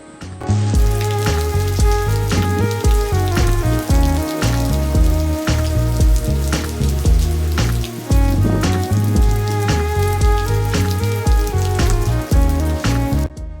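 Heavy rain pours down steadily and loudly, a dense close drumming on a surface with no pause throughout.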